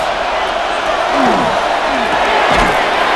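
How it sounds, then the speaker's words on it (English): A roaring stadium crowd builds before a play in Madden NFL 26, Cincinnati Bengals versus Miami Dolphins, a dense, loud wash of noise that swells slightly midway, with faint sliding whistles and thuds within it. "This crowd, they're trying to force a false start. What noise before 3rd and inches."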